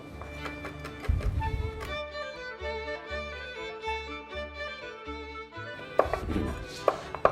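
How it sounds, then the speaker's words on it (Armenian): A knife chops tomatoes on a board in a home kitchen, a few close thuds at the start and end around a stretch of background music. "ես անցնեմ արդեն լոլիկի կտրատելու"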